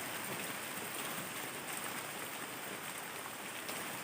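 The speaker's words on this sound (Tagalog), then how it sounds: "umuulan pa yan" Steady rain falls in the middle of a forest near a house, a dense even patter that continues without a break.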